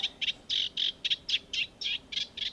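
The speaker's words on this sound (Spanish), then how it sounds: "Este pájaro" A bird calls in a quick series of about ten bright, repeated chirps, clear and fairly close, with no one speaking.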